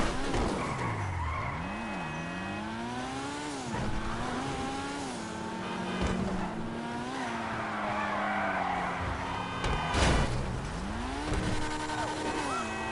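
Game car in GTA Online, fully HSW upgraded, thrown into a corner on the handbrake: engine revs rise and fall with a sustained tyre skid and squeal, loud and close, with quick gear-change dips.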